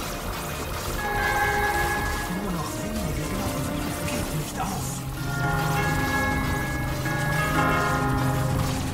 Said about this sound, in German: Na bitte, endlich wieder Glocken.